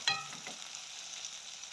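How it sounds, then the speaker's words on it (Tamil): Onion and garlic frying in a pan for crab curry, a steady soft sizzle throughout after a few faint stirring scrapes at the start, no voices. "கொஞ்சம் வதங்கி வரட்டுக்கும் வெங்காயம்"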